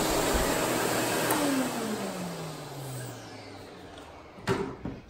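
A vacuum cleaner runs with strong suction, a steady broadband roar with a falling whine as the motor winds down, then a couple of brief knocks near the end.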